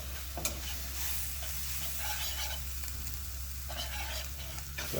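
Cornmeal porridge stirred in a pot, soft repeated scraping strokes over a low steady hum, close and fairly quiet with no voices.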